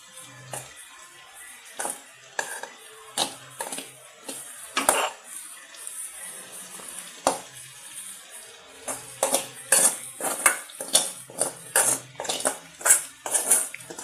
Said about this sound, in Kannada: ಈಗ ಬೆಂಡೆಕಾಯಿ ಫ್ರೈ ಮಾಡ್ಕೊಂಡಿರೋ ಬೆಂಡೆಕಾಯಿನ ಹಾಕ್ಕೊಳ್ಳೋಣ.